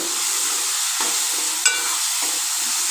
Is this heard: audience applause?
no